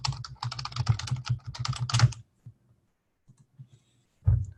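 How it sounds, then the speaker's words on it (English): Rapid typing on a computer keyboard, a dense flurry of clicking keystrokes for about two seconds, then a few scattered taps and a final burst, close and alone with no talking. "Look how fast I can type."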